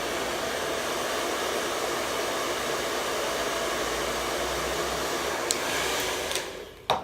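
Heat gun warming vinyl wrap on interior trim, a steady loud blowing hiss held close for several seconds before a brief clatter as it shuts off.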